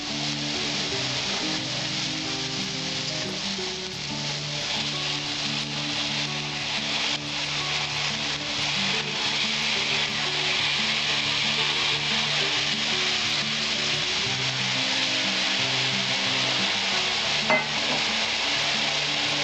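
Matar shak greens are added to a hot pan and stirred, giving a continuous loud sizzle and frying hiss with scraping stir strokes that carry on steadily and alone.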